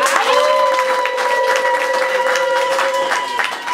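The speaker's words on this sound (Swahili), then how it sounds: "Jamani, makofi kwake." A church congregation applauds a guest being welcomed, a steady dense burst of many hands clapping with a bright sustained tone running underneath, loud and continuous throughout.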